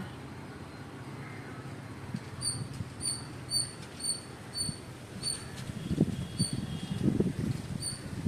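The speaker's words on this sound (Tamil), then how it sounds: "ஒரு குட்டி பறவையின் ரீங்காரம் கேட்கிறதா?" A small bird chirps repeatedly near a lake, giving a run of short, high, evenly spaced calls over a low outdoor rumble, with some louder rustling toward the end.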